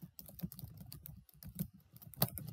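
Quick keystrokes on a computer keyboard as an email address is entered, an uneven run of close, dry clicks with a few sharper taps, no voices.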